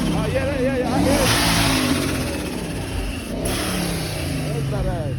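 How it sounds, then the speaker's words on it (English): At a car meet, a supercharged car engine revs up and down, loud and close, with a whining tone over the exhaust, while people talk and cheer nearby. "I hear a Pro Charger? Supercharger?"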